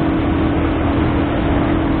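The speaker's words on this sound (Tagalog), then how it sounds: "sobrang ingay na ng motor" Loud, steady engine roar of a vehicle forced to drive with its brakes stuck, a constant droning rumble held at close range without letup.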